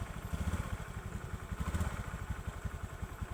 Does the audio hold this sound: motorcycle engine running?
yes